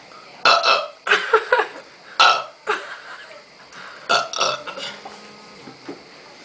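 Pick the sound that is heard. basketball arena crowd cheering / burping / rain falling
burping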